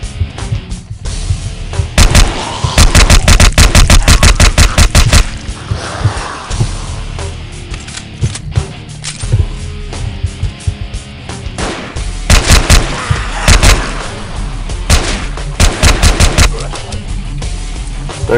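Rapid gunfire bursts in the zombie shooter video game DeadEpidemic, loud and close, arriving in repeated salvos of sharp shots separated by short pauses, with no talking.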